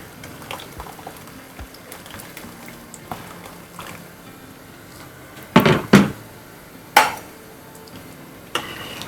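A pot of dal with added hot water bubbles quietly at a low simmer, with a few louder splashy bursts and clanks partway through.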